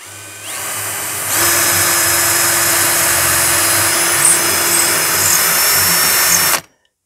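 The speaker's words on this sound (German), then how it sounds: "Das zeige ich euch nachher jetzt das Loch bohren. Dafür nutze ich einen 5er Bohrer." An electric drill bores a hole with a 5 mm bit while fitting a towel holder inside a van, a loud, steady whine running for about six seconds before it stops abruptly.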